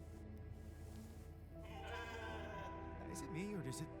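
A sheep bleats in The Alters, one wavering cry near the end rising over a busy game soundscape of hum and tones, with a person talking underneath.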